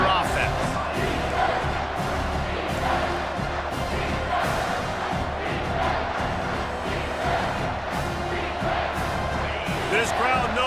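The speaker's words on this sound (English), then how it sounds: "This crowd knows they have to bring it in big moments, and one of those has arrived." Home crowd at a college football game between UConn and Miami roars continuously, a dense loud wall of cheering and shouting with no pauses.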